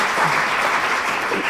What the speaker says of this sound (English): Can you give Ben a clap as well,